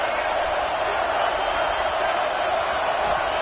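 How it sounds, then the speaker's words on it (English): Stadium crowd at an Ole Miss vs UGA football game, a steady dense roar of many voices filling the air with no breaks. "This crowd bringing the energy and noise early."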